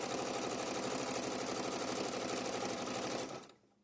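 A Janome sewing machine stitches quilt binding in a steady, continuous loud whir with a fast mechanical rhythm, then stops abruptly near the end, leaving near silence.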